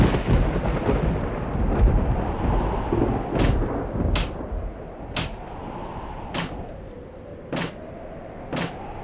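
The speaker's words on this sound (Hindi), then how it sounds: "इस मौसम में इतना आंधी तूफान?" Thunder rumbles through a storm with heavy wind and rain, a dense continuous roar broken by a run of sharp, evenly spaced cracks in the second half, with no talking.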